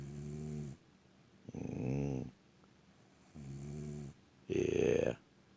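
A person snores close to the microphone in a slow, regular rhythm: four breaths, each a low rumbling snore separated by short pauses, with no talking.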